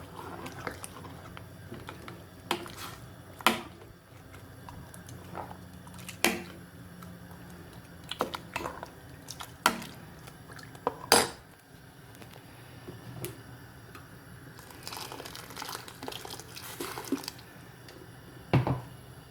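Dal of moringa leaves and lentils being stirred in a pot, giving soft wet squishing and intermittent spoon clinks against the pot at close range, with no talk.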